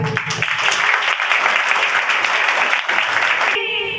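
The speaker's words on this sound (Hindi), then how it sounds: "सभी अपने स्थान से खड़े होकर मुख्य अतिथि जी का तालियों से स्वागत करें।" Applause from an assembled audience standing to welcome the chief guest at a Youth Day academy event, a dense steady clatter of many hands filling the room for several seconds before cutting off abruptly near the end.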